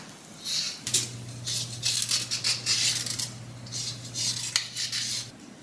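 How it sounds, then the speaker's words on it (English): A knife scrapes along carrots in quick, rhythmic rasping strokes, close and fairly quiet over a low steady hum, with short pauses between bursts. "I'm going to use the knife to peel the carrots"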